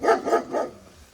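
A dog barks three quick times in a row outdoors at night, fairly close and moderately loud, with the barks fading into quiet background afterward.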